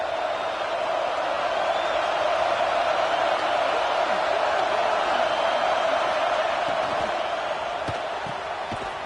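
Football stadium crowd roaring at an LSU vs Clemson game, a dense, steady wall of loud crowd noise with no letup, forcing a false start.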